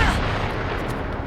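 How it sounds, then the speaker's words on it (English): A cannon fired in a canyon, used as the Terminator 2 gun effect: one deep, heavy boom with a long, rumbling reverberant tail that fills the whole moment. "It's a literal cannon that I think they fired in a canyon, so it has all this built-in reverb."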